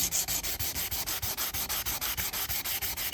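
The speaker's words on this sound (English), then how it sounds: "Just to make sure I've got all those 400 sand marks sanded out." Stainless steel trim hand-sanded with 600 grit sandpaper, a steady rapid back-and-forth rasping of about five strokes a second, close and continuous with no talking.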